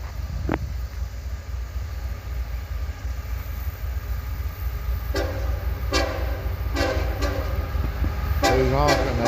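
A freight train sounds its horn in several short honks near the end, loud and close over the rumble of rolling cars, after a quieter stretch with a brief earlier toot.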